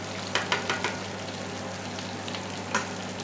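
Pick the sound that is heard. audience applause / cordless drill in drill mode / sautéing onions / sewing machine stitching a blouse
sautéing onions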